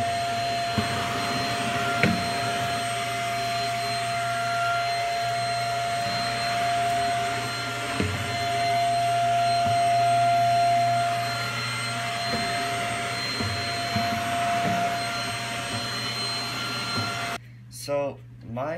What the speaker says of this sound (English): So now what you do is you run and grab a vacuum and vacuum everything out.